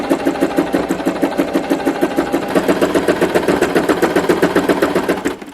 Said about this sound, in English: I am just using white cotton in the sewing machine